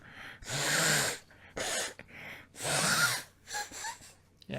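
Someone forcefully blows their nose in a few bursts of breathy, honking air, loud and close, with short pauses between blows.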